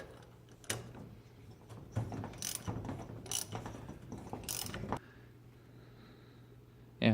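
A socket wrench ratchets on a Yamaha Breeze ATV, bursts of rapid clicking pawl strokes in several short pulls, close and clear, then a pause.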